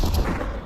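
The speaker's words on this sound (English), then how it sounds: "Oh, good grenade." A grenade explosion in the Pavlov VR shooter lands as a short, heavy, low boom that quickly fades.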